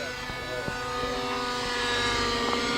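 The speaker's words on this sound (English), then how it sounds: "The helicopter has quite a whine to it." A radio control model helicopter at a fly-in gives off a steady high whine with tonal engine buzz, holding constant and slightly growing louder over a few seconds, with no talking.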